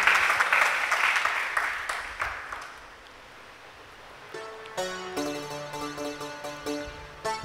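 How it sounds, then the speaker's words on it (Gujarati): A devotional audience at a Sundarkand katha claps loudly, and the applause fades out within a few seconds before harmonium-like music begins. "ભગતને તાળીયું બજાવો."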